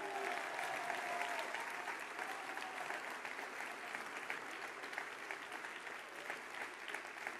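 A large crowd at a French political rally keeps up a long, even wave of applause. It sounds distant and sustained and never breaks.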